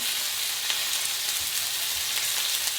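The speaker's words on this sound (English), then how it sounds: "So I'm frying this chicken here" Chicken pieces fry in a pan for a chicken parmesan, giving a steady close hiss and crackle with no pauses and no talk over it.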